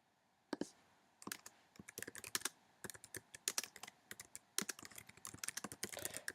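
Someone types on a computer keyboard to write a note. After a quiet start, a long run of close, crisp clicking keystrokes follows at an irregular, fairly quick pace, with no talk.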